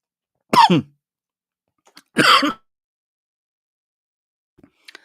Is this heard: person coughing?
yes